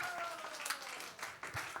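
Light, scattered clapping from a small church gathering, a handful of faint, irregular claps heard at a distance.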